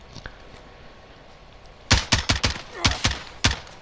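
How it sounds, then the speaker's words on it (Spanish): A quick burst of sharp shots fires in a rapid, slightly uneven volley after a quiet stretch, synthetic gunfire in Call of Duty: Modern Warfare. "mira cómo disparo"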